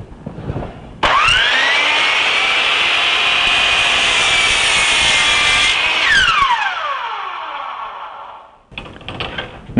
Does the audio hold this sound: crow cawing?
no